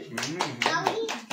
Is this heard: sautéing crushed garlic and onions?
no